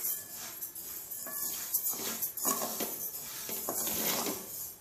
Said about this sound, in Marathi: मी गॅसवरती कढई ठेवलेली आहे आणि त्याच्यामध्ये सुकवलेले तांदूळ आहेत ते आपण भाजून घेणार आहोत.